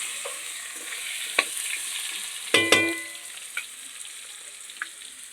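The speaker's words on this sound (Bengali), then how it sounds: "আলুগুলো একটু ভাজা ভাজা হবে তারপর আমি ঝিঙাগুলো দেবো" Potatoes frying in a pan with whole cumin and bay leaf, a steady broadband sizzle with a few sharp clinks of a utensil against the pan, close and moderately loud, no talking.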